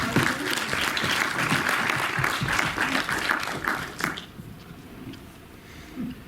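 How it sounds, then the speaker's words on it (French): An audience at a film festival breaks into dense, loud applause that runs for about four seconds, then stops abruptly and leaves faint room noise behind. "Je pense qu'on peut l'applaudir."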